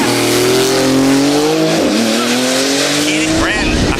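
A Porsche GT2 race car at a track roars past at high speed, its engine note a loud sustained whine falling in pitch with tire squeal, while people talk over it.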